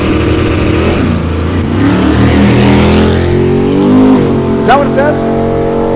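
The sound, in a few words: race cars driving at a race track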